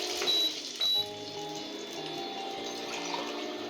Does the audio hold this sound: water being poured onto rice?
yes